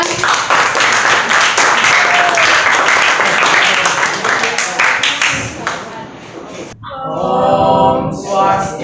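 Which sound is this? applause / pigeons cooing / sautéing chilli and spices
applause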